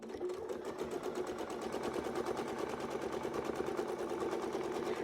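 A sewing machine runs steadily, close and alone, stitching a quilted wreath design with a fast, even needle rhythm from start to finish.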